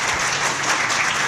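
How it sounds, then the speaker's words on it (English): An audience at a 2018 congressional district primary runoff debate breaks into applause, a dense, steady clapping that fills the whole short stretch with no voices over it. "we appreciate the applause"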